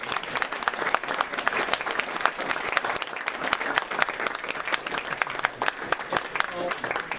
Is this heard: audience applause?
yes